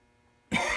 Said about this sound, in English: I got a dry cough for some reason.